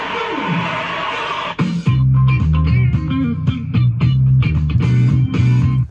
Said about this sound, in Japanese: こんな風にですね、ギターの音が入ってると思います。